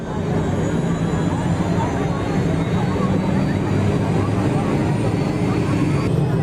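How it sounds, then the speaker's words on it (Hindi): A helicopter's engine and rotor blades spin up at a wedding procession departure, a steady loud whooshing roar filling the air while voices talk nearby. "ये हेलीकॉप्टर स्टार्ट हो चुका है। आप देख रहे हैं पंख घूमने लगे हैं।"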